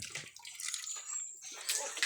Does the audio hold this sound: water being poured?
yes